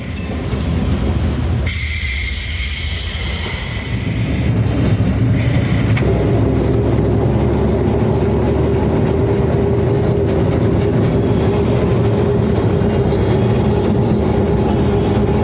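An old Kolkata tram rolls along its rails in a steady, loud rumble, with a bright metallic screech of wheels near the start before the run settles into a continuous clattering drone.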